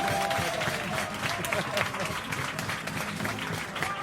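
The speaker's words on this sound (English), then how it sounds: "getting their applause, and people are cheering and they're waving and giving high five to the people here" A crowd applauds and cheers for a large group of cruise ship staff. The clapping is dense and sustained, with whoops and talk mixed in throughout.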